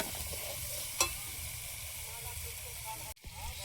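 Chopped tomatoes frying in a pan give a steady, moderate sizzle and hiss that runs throughout, with a brief clink near the start and a short clatter toward the end.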